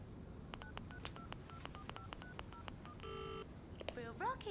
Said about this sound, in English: Would you mind if we use the phone, Mr. Lindsley?